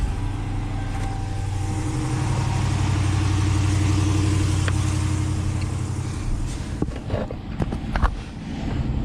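A truck engine cranks and starts, settling into a steady low idle that hums throughout, with a few sharp clicks and knocks near the end; the engine sounds close.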